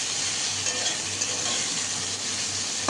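Potato and soybean frying in a pan while being stirred, giving a steady close sizzle with light scraping, with no talking.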